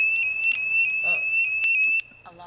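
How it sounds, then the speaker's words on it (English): A Lamborghini car alarm blares close by as a loud, steady high-pitched electronic tone, then cuts off abruptly after about two seconds while voices speak nearby. "Alarm off."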